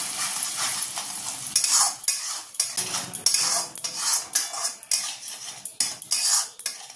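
A spoon scrapes and clinks against a metal pan while white and black mustard paste is stirred into a fish curry for doi ilish, with rhythmic utensil knocks over a faint sizzle and no talking.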